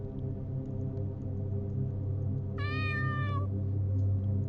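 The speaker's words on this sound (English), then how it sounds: "Brown cat, meow." A single clear meow from a brown cat in the Tales of the Black Forest game rises over a steady low hum, lasting under a second midway through, with no talk.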